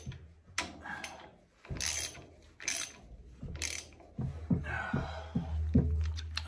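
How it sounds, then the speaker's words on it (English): Ratchet wrench tightening bolts on an old wood chipper, clicking in repeated bursts of quick pawl ratcheting with short pauses between strokes, close up and fairly quiet. "tighten that down, skip"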